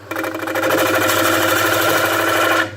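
A bowl gouge cuts across a wooden bowl spinning on a lathe, producing a loud, continuous rough tearing drone with rhythmic pulsing for about two and a half seconds before stopping abruptly.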